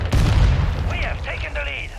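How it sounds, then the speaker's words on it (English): A flak grenade detonates in Call of Duty Modern Warfare 2, a heavy low boom opening the moment and rumbling for about a second, followed by lighter clattering and chirpy game effects as the blast fades. "Throwing flak grenade."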